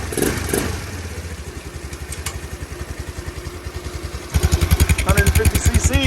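A GY6 scooter engine, compared in 150 cc and 250 cc sizes, chugs in a steady rhythmic idle, then revs up louder and harder near the end, close by with a voice talking over it.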